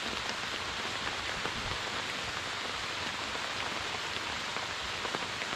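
Rain falls on a Joy Tutus truck tent at a campground during a downpour of several hours: a steady, even hiss of drops drumming on fabric, continuous and moderately soft with no voices.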